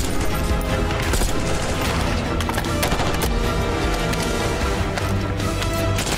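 Continuous heavy gunfire from the video game Black Ops 6, played on its hardest difficulty, with overlapping automatic bursts and sharp shots forming a loud, unbroken barrage throughout.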